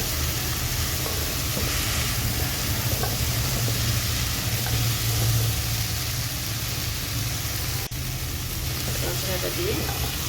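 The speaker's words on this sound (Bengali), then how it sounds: "এবার কাঁকড়াটা দিয়ে দিচ্ছি" Fried sea crab being stirred into a sizzling spice masala in a pan, giving a steady close frying hiss with scraping stir sounds throughout and a brief knock near the end.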